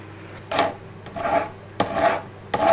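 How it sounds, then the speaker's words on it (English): A hand scraper strips the last softened glue and backing off a piece of furniture in four rough, rasping strokes, each a loud close scrape with short pauses between. "So with the scraper, it's getting the last of the glue and also the backing off."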